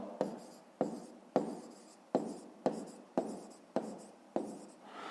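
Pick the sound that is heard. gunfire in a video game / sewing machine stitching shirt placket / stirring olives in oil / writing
writing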